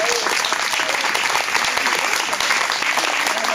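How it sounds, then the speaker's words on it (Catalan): Sustained audience applause for Olga, a singer, tambourine player, flautist and accordionist from Taüll, during a folk music concert at a monastery, with dense, even clapping from a crowd at steady volume and no voices. "un fort aplaudiment"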